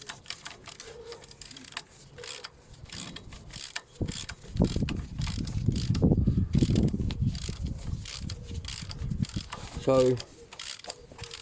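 A socket wrench ratchets rapidly while undoing an already loosened driveshaft bolt, giving a dense run of mechanical clicks over several seconds. A person speaks briefly nearby.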